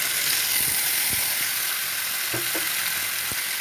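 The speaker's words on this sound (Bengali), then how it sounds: "এই ভেন্ডিটা আমি গরম তেলের ভিতরে দিয়ে দেবো।" Okra sizzling steadily in hot oil, a dense close frying hiss with a few faint clicks and taps, no voices.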